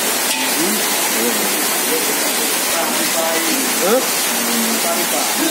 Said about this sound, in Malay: Kalau hujan terus berlanjut, pasti akan kebanjiran.